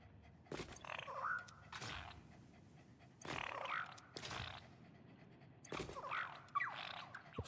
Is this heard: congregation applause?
no